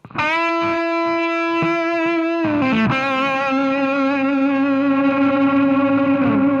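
A distorted electric guitar plays a few picked notes, then a long held lead note rings out with audible delay repeats from a Flashback delay pedal and reverb trailing behind it.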